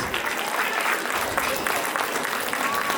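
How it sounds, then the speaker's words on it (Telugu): A crowd at a Sankranthi festival event applauds steadily, a continuous wash of many hands clapping from start to finish. "అందరికీ big round of applause for TSN EC team"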